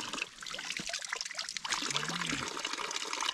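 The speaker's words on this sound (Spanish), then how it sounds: "a mitad de ruta tener fuente" Water runs and trickles from a small fountain along a hiking trail, a steady close splashing pour heard alone outdoors.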